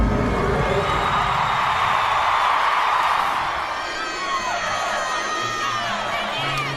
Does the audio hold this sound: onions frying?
no